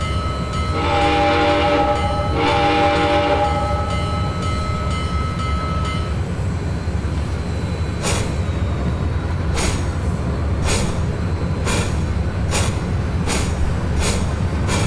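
Train departing in the Trainz railroad simulation game, with two long horn blasts over a steady rumble of rolling cars, then a series of rhythmic clacks as the wheels cross rail joints.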